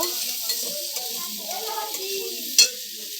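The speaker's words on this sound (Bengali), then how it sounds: "আলুটা ভালো করে কষিয়ে নেব।" Potatoes sauté in a hot pan with a steady sizzle and busy stirring scrapes, plus one sharp metallic clank near the end.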